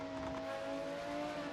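Race car engine in a racing video game at Autopolis, a steady droning whine holding a constant pitch, fairly faint and continuous without talking.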